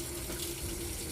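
Water runs steadily from a tap to wet a washcloth after using a papaya enzyme cleansing balm, a close, continuous gush with no voices.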